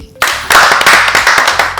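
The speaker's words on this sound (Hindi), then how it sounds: "पंजाब के लिए 80 तालियां बजाएंगे जी" A crowd at a business team gathering claps for Punjab. Loud, close rhythmic clapping from many hands starts suddenly after a short pause, with sharp repeated beats that run on without pause until the end.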